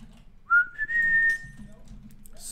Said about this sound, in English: Sorry for the whistling.